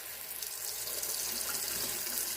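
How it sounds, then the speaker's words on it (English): Cold water runs steadily from a kitchen sink tap over noodles in a colander, a continuous bright hiss and splash with no talking. "I've got them in the colander here in the sink. And what I'm going to do is rinse them with cold water."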